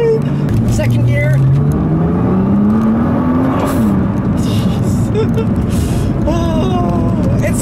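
A 2014 Nissan GT-R accelerates hard through the gears, its engine note climbing steadily in pitch before a shift and another rising pull, loud and continuous inside the cabin with road noise underneath.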